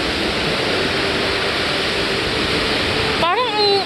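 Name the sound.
strong rushing water waves at a jjimjilbang spa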